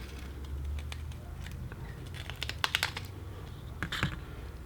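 A blade cuts an opening in foam board for a Flite Test Mini Sportster model plane, making quick, close, crisp scratchy snips and crackles in short irregular bursts over a low background hum.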